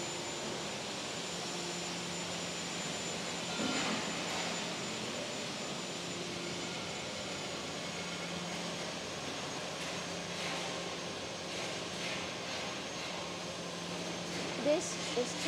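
A perforated cable tray forming machine runs with a steady, even industrial drone and hum, broad and continuous throughout, with a faint whine and a few small knocks near the end.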